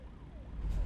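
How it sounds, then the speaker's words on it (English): Sirens wail in the distance in American Truck Simulator as a brief, faint, falling tone over a low rumble of road and engine noise. "Hear sirens out in the distance in-game."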